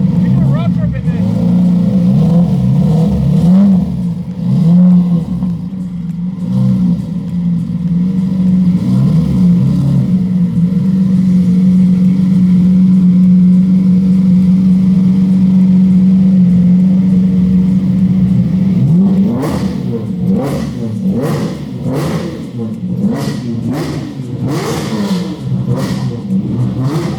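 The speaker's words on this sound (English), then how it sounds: "This sounds like a race car." A Lamborghini fitted with a straight-pipe exhaust revs loudly and close up, a steady deep drone giving way to a series of sharp, rapid throttle blips near the end.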